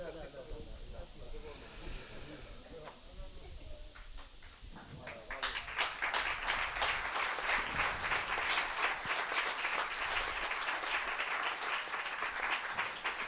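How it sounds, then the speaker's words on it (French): An audience at an innovation event in Montpellier breaks into applause, faint hissy murmur and a voice first, then dense clapping swelling up and holding strong for the rest. "On a un très bon public, hein, ils applaudissent beaucoup"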